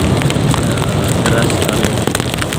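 Heavy tropical rain pours onto a roadside in Simeulue, Aceh, a loud, dense, continuous hiss of drops drumming close by without letup.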